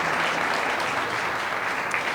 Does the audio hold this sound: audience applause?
yes